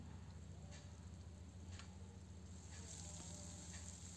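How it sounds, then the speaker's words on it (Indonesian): Ground spice paste sautés in a little oil in a wok for soto ayam Semarang, a steady close sizzle and crackle running throughout with faint stirring ticks, no voices. "Lalu tumis bahan yang sudah saya haluskan tadi."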